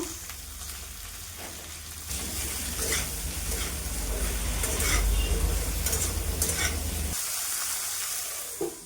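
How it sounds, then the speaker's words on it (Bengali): Prawns with leafy greens and chunks of potato fry and get stirred in a pan, a steady hiss of sizzling that swells louder from about two seconds in, with scraping stirs and no talking. "চাপা লাগিয়ে দিলাম দু তিন মিনিট ভেজে নিব দেখুন"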